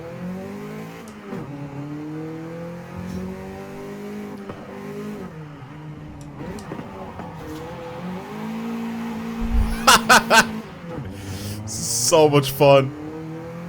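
A car in the video game Forza Horizon 5, set up as an Initial D style build, power-slides into corners with a steady engine drone, revs rising and falling, and sharp tire squeal bursts near the end, under a speaking voice.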